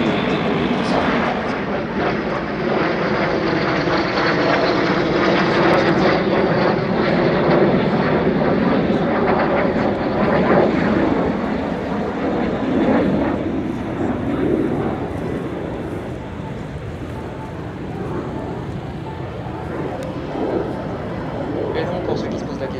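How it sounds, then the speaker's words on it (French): An L-39 jet aircraft at the Air Legend 2023 air show gives a loud, sustained engine roar that swells and then slowly eases, with people talking over it. "partager avec eux un vol en L39, eh bien, c'est possible"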